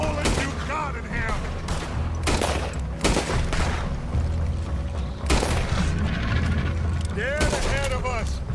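Gunfire during a Red Dead Redemption 2 mission: repeated loud, close gunshots, some in quick volleys, over music and tense voices talking.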